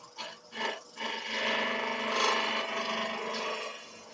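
On a lathe, a woodturning tool's bevel rubs against a spinning wood spindle, giving a continuous close rasping hiss that swells and steadies after a couple of brief scrapes.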